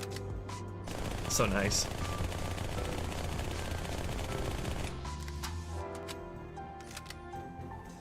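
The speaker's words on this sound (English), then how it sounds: "I might as well show you the empty reloads if you don't know about them. I really like the SMGs one especially" SMG empty reload animation in the Halo 2 video game: a burst of metallic clicks and clacks, then a rattling mechanical stretch, with a voice speaking briefly over the busy game audio.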